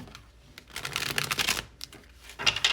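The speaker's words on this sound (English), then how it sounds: "I'm going to shuffle this deck one more time." Cards being shuffled in quick riffling bursts, crisp and close, with a brief pause before a final flutter.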